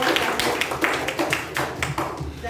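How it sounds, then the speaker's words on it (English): A small audience at a youth leadership meeting claps in a quick, close, uneven patter of hand claps that runs steadily for a couple of seconds. "Please give a thunderous round of applause to all the leaders."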